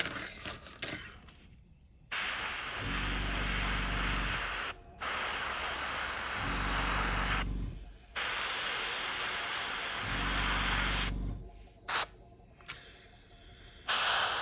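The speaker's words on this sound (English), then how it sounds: "we're going to spray everything in silver that needs to go silver." Silver spray paint hisses from an aerosol can onto parts of a 1978 Tamiya Lotus model car, in several long steady bursts separated by short pauses, loud and close.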